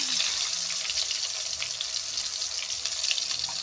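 Pointed gourd (potol) slices fry in a pan with a steady, close hiss of sizzling oil that holds level throughout, with faint low clatter underneath.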